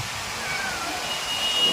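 A cat kept at the entrance of a Dattatreya Swami temple by a pond embankment meows at approaching visitors, a faint, drawn-out cry over steady background rush from flowing water nearby.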